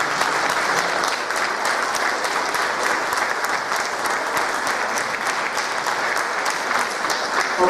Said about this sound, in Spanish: Un aplauso para ellos y para ustedes.